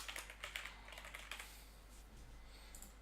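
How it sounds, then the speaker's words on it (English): Fingers type an email on a computer keyboard, producing a quiet, quick run of light key clicks that thins out toward the end, with no voices. "type in the email."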